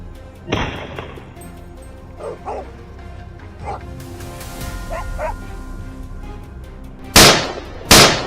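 Dogs bark repeatedly in short bursts at varying distances over outdoor noise while chasing wild boars on a Texas farm, ending with two sharp, loud cracks.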